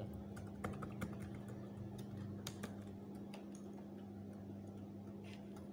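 Steady, rapid keystrokes on a computer keyboard, typed touch-style without looking, click quietly and evenly over a constant low hum.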